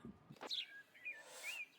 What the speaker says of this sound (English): The birds are normal.